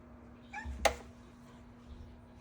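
A house cat named Topaz gives a short meow indoors, one faint call preceded by a softer chirp, alone against a steady low background hum.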